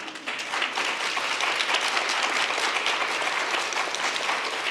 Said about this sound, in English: Are you really applauding or just feel sorry for me?